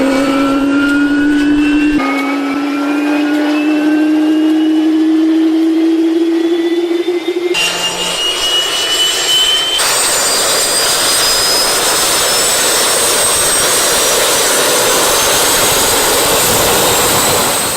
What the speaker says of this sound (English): I bought a Rolls-Royce R2 gas turbine engine, got it mounted on a trailer, and we ran it for the first time